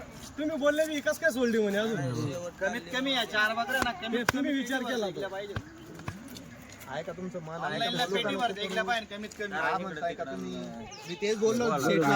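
Kathiawari goats bleat repeatedly nearby at night during unloading from a vehicle, wavering cries overlapping with people talking, plus a few sharp knocks.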